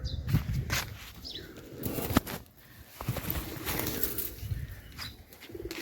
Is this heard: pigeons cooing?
yes